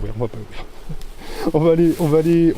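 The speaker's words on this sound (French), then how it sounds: "Les abeilles commencent à rentrer" Honeybees return to the hive in the evening, their buzzing drifting at moderate distance. A person speaks over it with pitched, sustained tones.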